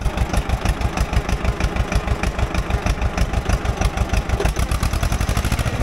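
Close and loud, the diesel engine of a Fiat 355C crawler tractor chugs in a steady rapid rhythm as the machine is put in first gear to move off, with no talking.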